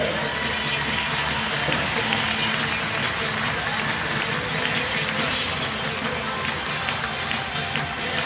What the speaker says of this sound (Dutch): Dames en heren, applaus voor het team uit Spanje!